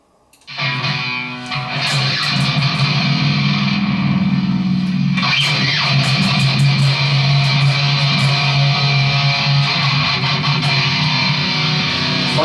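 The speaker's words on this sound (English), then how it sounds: "So this is the 7-string guitar." A loud, heavily effected seven-string electric guitar rings out in sustained, dense heavy metal chords, staying full and continuous throughout.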